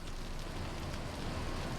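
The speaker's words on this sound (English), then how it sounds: "It is raining." Rainfall in the city-building game Cities: Skylines, a steady, even hiss of rain holding at one level throughout, fairly faint and without voices.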